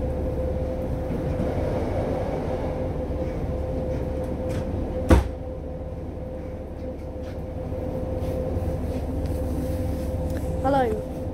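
Steady low rumble inside a moving Wrexham to Bidston train, interior hum with a sharp clunk midway and a faint squeal near the end.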